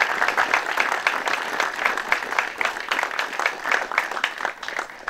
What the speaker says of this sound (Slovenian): Zato en aplavz za ta predlog stranke.